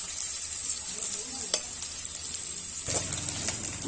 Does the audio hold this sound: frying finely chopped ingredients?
yes